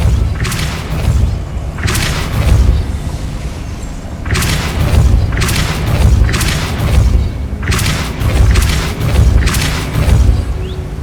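Repeated booming spell impacts from a repulsion charm in the video game Hogwarts Legacy, several heavy thuds with whooshing bursts arriving at roughly regular intervals over a low rumbling game background.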